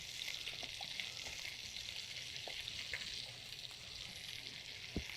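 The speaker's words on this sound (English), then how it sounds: "My salmon's cooking beautifully." Salmon fries in a pan with a steady, continuous sizzle and crackle that carries on alone, with a few small pops along the way and one sharper click near the end.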